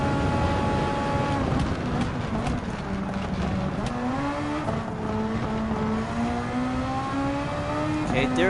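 Super Formula open-wheel race car in Gran Turismo 7 at Michelin Raceway Road Atlanta, its engine droning loudly and steadily, pitch climbing through gears with brief shifts, sustained and close.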